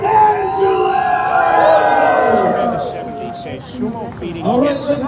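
A festival audience at an anime event cheers and whoops for a contestant, loud voices rising and falling over a few seconds, with an announcer's amplified speech mixed in and the crowd swelling again near the end.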